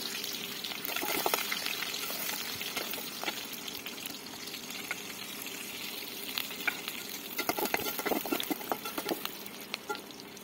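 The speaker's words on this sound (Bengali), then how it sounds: "এতে সরিষার তেল দিয়ে হচ্ছে বাগারটা দিচ্ছি" Meat gets a tempering of onion, garlic and dried chilli in hot mustard oil over a clay stove. A soft, continuous sizzle and crackle runs throughout, broken by scattered scraping and stirring knocks, with no voices.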